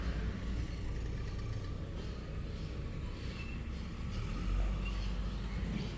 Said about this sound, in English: Sorry about the construction noise,